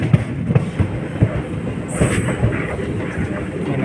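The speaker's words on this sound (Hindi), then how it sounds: "यह है कोंकण रेलवे।" Konkan Railway train running along a single track at sunset, a steady rumble with rhythmic wheel clacks and a brief high squeal, close and alone without talk.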